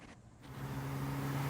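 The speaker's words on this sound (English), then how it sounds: "And then there's a modern Mustang, a 5-liter Mustang." A modern 5-liter Ford Mustang rolls past at a dusk car show in Doylestown, its engine rumble rising steadily from moderate to loud as it nears, with a low droning tone and broadband road noise and no talking.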